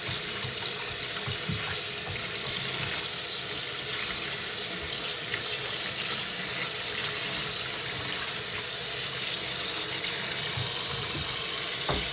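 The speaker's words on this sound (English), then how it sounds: "I just put some soapy water in here, very hot water" A sink fills with very hot soapy water from a running tap, a steady close hissing splash that holds at an even level throughout with no pauses.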